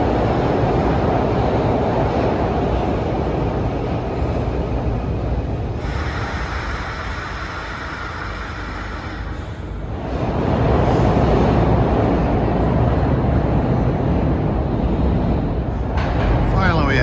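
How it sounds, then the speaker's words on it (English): A Fern Rock-bound Broad Street subway train of 1980s Kawasaki cars arrives at a Philadelphia station. A loud, continuous rumble and roar dips briefly in the middle, then swells again close by, with faint high squeals near the end. "here comes a Fern Rock bound Broad Street subway. These are Kawasaki cars built in the 80s."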